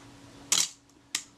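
A Retina Reflex S camera shutter fires with a crisp, close mechanical snap, followed about half a second later by a second sharper click from the film advance release, in an otherwise quiet room.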